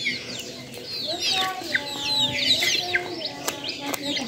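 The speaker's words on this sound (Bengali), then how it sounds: "আজকে মুরগি আনছে।" Live chickens clucking close by, with repeated short clucks and squawks over a steady low background, varying in loudness across the stretch, with no clear talk.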